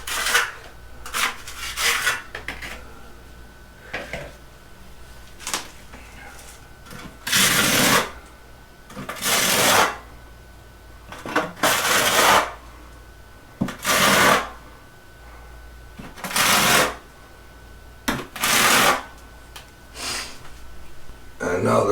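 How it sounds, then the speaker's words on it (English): A tool scrapes excess thinset mortar off freshly set subway tile in a shower, giving repeated rasping strokes at an uneven rhythm, close and fairly loud. "once you get some excess mud, go ahead and scrape it off."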